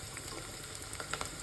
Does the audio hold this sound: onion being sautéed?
yes